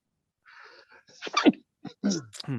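A sharp sneeze bursts out between short stretches of a nearby voice speaking.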